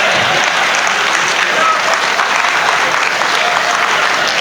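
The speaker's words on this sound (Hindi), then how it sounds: "जिन 2-4 लोगों ने तालियां बजाई है वो भी रहने दो।" A live audience at a Hindi hasya comedy show claps in a steady, dense wash of applause that holds at an even level for several seconds, with no voices over it.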